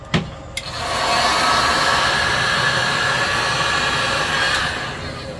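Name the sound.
heat gun blowing hot air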